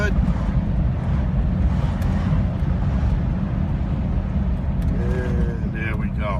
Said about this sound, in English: Hear the car revving up nicely